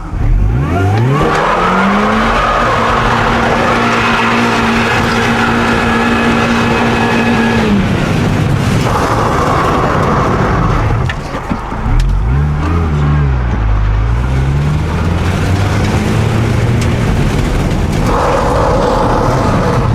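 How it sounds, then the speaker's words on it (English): A Mini doing a burnout, its engine revving hard in sustained bursts while the tires squeal loudly and continuously, with a brief dip before the revving and screeching resume up close. "We're gonna do a burnout."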